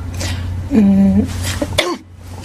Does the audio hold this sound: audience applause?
no